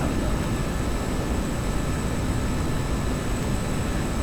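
A MiG-21 jet engine roaring with afterburner lit in the DCS flight simulator, a loud, steady broadband rumble and hiss that runs unbroken throughout.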